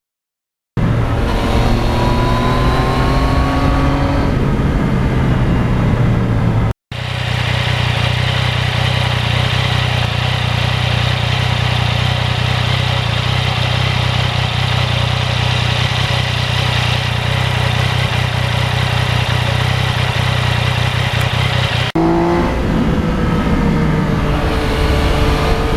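A 2020 Yamaha MT-09 motorcycle with a quick shifter rides on a very cold day toward tundra mountain tops, its steady loud engine drone holding over a long stretch with brief rising gear changes at the start and end and a short cut.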